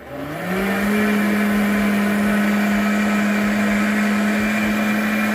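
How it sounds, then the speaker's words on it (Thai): Blender whirring fingerroot (krachai) with water for juice, the motor spinning up in the first half second then holding a loud, steady high-pitched drone. "น้องอเล็กทำการปั่นแล้วนะคะ"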